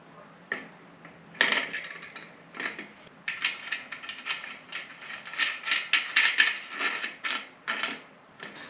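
Front wheel being fitted onto an upside-down DK Cygnus 24 bicycle: close, irregular metallic clicks, rattles and ratcheting taps in quick bursts, with no talking.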